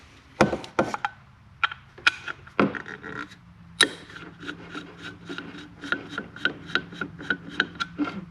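Parts being handled while the distributor rotor is changed on a 1970 Chevy C10 with a 327 small-block: close, sharp plastic and metal clicks and scrapes, irregular at first, then a quick steady run of ticks, with no talk.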